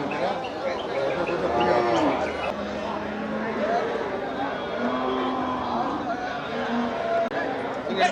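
Cattle low repeatedly at a busy livestock market in Melapalayam, with long moos rising over a steady hubbub of crowd chatter and traders talking nearby.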